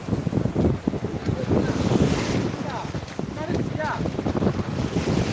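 Sea waves wash steadily against the seashore at Tiruchendur under strong, constant wind buffeting the microphone, a loud, continuous roar with no pauses.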